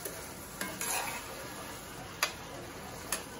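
Chopped garlic stirred in a hot pan while making beef tenderloin steak with mushroom and caper gravy, a soft steady sizzle with a few sharp scraping clicks of the utensil, close and alone.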